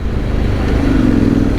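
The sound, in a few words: custom Honda X-ADV 750 motorcycle engine while riding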